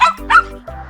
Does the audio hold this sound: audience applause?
no